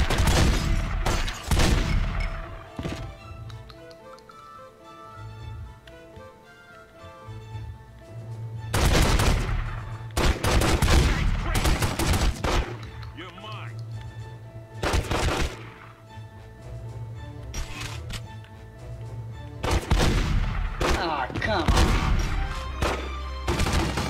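Gunfire rings out in The Godfather video game, several loud single shots and brief bursts spread across the stretch over a steady game soundtrack and ambience.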